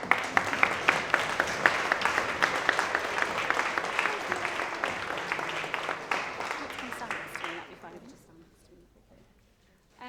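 A student union politics audience at a question-time event claps in a steady burst of applause that holds strong, then thins out and fades near the end.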